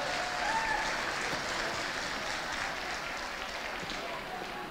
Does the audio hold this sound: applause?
yes